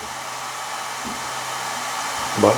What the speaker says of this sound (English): the motor should be at half speed